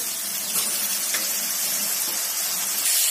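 Ground lentil dumplings frying with soy sauce in a pan give a steady, close hissing sizzle that continues evenly without a break.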